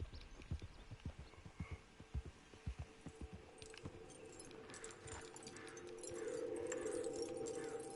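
Horse hooves clip-clopping in Red Dead Redemption Online, a run of distinct close hoofbeats in uneven rhythm over several seconds, fading into a louder sustained ambient wash toward the end.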